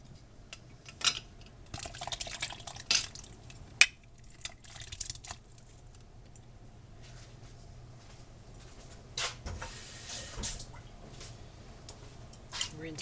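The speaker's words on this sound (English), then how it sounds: "I'm going to open this jar. I'm going to add it broth and all." A jar of beef with its broth is emptied into a pot of soup, giving soft splashes, glugs and clinks of glass and metal up close, scattered and intermittent amid quiet room noise.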